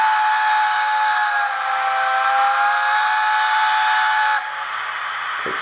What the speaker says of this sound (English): click the whistle.